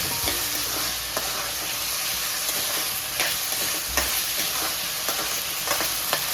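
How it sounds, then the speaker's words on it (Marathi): Potatoes and sago pearls sautéing in a pan for a fasting ragda, steady close sizzling with intermittent scrapes and stirring taps of a spoon, no talk. "1-2 मिनिटं परतून झाले की त्यात आपल्याला साबुदाणा घालायचा आहे, तोपर्यंत 2 मिनिटं परतून घेऊया।"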